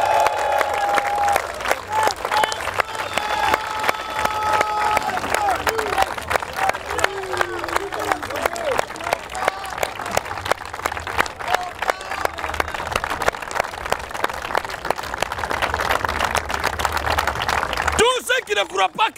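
A church congregation applauding in steady rhythmic clapping that continues for a long stretch, with a preacher's voice and crowd noise over it, ending abruptly.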